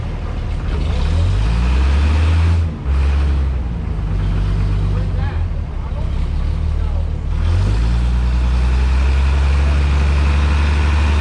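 A Pettibone crane's diesel engine runs loud and close throughout, a steady low rumble with small shifts in pitch and one brief dip near the start, on a job setting roof rafters for a house under construction.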